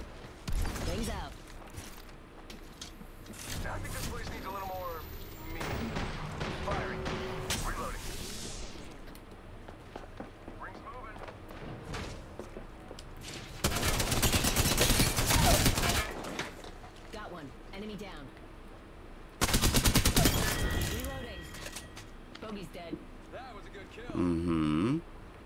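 Gunfire rings out in a battle royale shooter match, with bursts of rapid shots and long loud volleys between quieter stretches, mixed with character voice lines and game effects.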